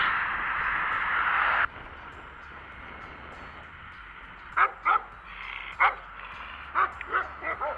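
On a road in Greece, several dogs bark in short bursts from a moderate distance, scattered across the second half, after a steady wash of road noise fades out early on.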